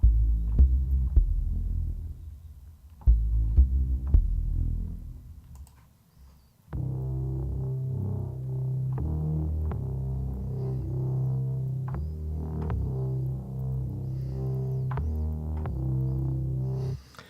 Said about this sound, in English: Basses are a mixture of sort of weird noises, but there's some nice basic sort of punchy analog stuff